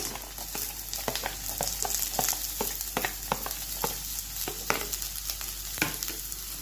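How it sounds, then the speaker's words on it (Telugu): Vegetables sizzle and fry in a pan with salt: onion, green chilli, ginger, garlic, carrot and beans, heard as a steady hiss broken by repeated sharp scraping stirs, close and fairly loud, with no talking. "కొద్దిగా సాల్ట్ వేసి ఫ్రై చేసుకోవాలి"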